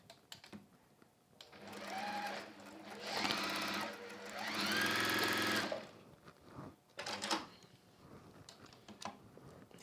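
A sewing machine chain pieces a small stitch in a run of close, loud whirring bursts of rapid needle clatter, with quieter handling taps and clicks between them.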